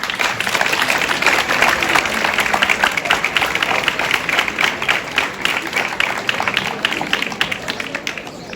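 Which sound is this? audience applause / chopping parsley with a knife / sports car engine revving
audience applause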